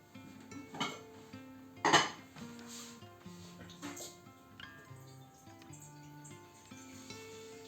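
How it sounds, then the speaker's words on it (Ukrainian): A metal pot being filled with water and set on the stove clatters with its lid, a few sharp clanks near the start, followed by quieter kitchen handling sounds and soft background music. "ми набираємо воду в каструльку і ставимо її на плиту"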